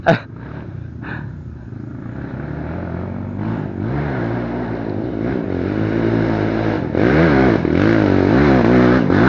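Motorcycle engine revving and labouring through wet, muddy ground beside a canal, a loud close drone that rises and strains over several seconds, with scraping clatter and no talk.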